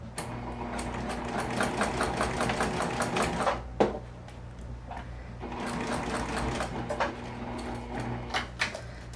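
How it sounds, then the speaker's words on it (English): A sewing machine stitches a seam on a sling bag, running in fast steady bursts with a brief pause midway and then continuing, close and clear with no talking. "go ahead and sew this in place using your seam allowance"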